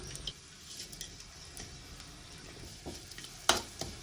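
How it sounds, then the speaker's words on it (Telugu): Garlic, tamarind, coriander seeds and cumin fry quietly in a pan, a soft sizzle with scattered stirring scrapes and a few sharper clicks of a spoon against metal, fairly faint and close, without speech. "ఎల్లిపాయలు కూడా ఫ్రై చేసుకుందాం. అలాగే చింతపండు, ధనియాలు, జీలకర్ర కూడా వేసుకుందాం"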